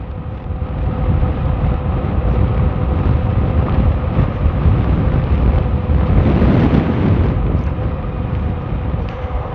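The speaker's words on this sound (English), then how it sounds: "the wind here is always screwy. Seems to blow every direction at once." Steady wind buffeting the microphone while riding a Solebike SR22 e-bike across flat, gusty ground below mountains, a continuous loud low rumble with a brief swell midway and no talk.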